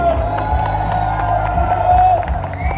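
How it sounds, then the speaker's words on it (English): A crowd at a butcher competition cheers and applauds during the final minute of a timed round, a continuous, loud roar of whoops and clapping with a voice over the top. "Let's give them a big round of applause. Big cheer."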